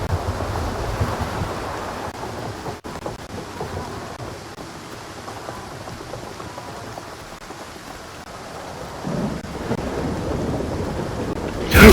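Thunder rumbles and cracks close by during a storm in the video game Stalker 2, a broad, steady roar with a sharp jolt near the start and a heavier surge toward the end, with no talking.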